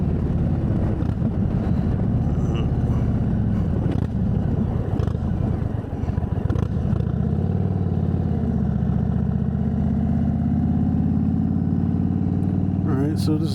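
An Indian Chief Bobber Dark Horse motorcycle ridden on the road after repairs, its engine a steady low rumble with wind noise throughout, loud and close, with someone talking over it.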